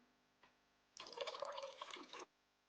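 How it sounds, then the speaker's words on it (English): Drops of room-temperature water added to einkorn sourdough levain water, a faint tap followed by a short trickling, dripping pour lasting just over a second, close and quiet. "I'll add a few more drops of room temperature water, and that'll do the job."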